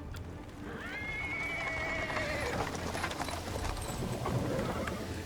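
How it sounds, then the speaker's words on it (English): Horse-drawn cart pulled by a small horse rolling over paving stones in the Pathfinder video game, steady hoof clip-clop under a whinny, with a continuous rumble of wheels throughout. "He is interrupted by the sound of wheels rolling on the paving stones. A cart drawn by a sad little horse appears from around the corner."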